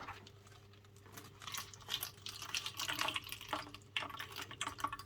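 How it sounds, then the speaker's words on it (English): Water poured out of a plant reservoir for an orchid, a continuous splashing, trickling pour that lasts the whole stretch, close and fairly loud. "So I will pour out a bit of water here and measure."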